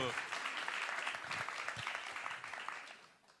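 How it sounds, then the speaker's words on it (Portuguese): An audience applauding an artist at a literary talk, a dense spread of clapping that fades toward the end, with voices mixed in. "um aplauso para esse grande artista, esse grande brasileiro"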